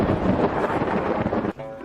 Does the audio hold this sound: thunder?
yes